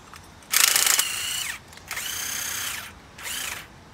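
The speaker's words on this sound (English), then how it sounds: "Oh, I broke that drill bit altogether." Power drill whirs in three loud bursts with a drill bit boring into metal parts during a Char-Broil grill rebuild, its pitch rising and falling as each burst spins up and winds down.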